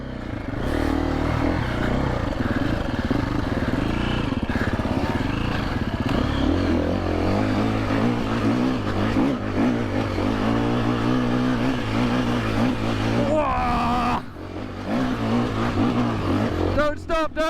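Husqvarna enduro dirt bikes ride through woods in Norway, engines buzzing and revving loudly and continuously up close, with voices shouting over the machines.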